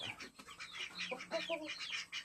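Several hens cluck and chatter in short bursts at moderate distance, with other bird calls mixed in and no talking.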